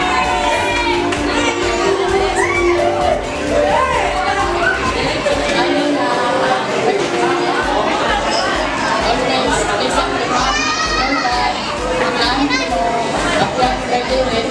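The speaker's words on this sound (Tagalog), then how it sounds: "Sigawan na ang naririnig." Loud crowd of children and adults shouting and chattering over each other at a child's seventh birthday party, continuous dense din throughout with music-like tones mixed in.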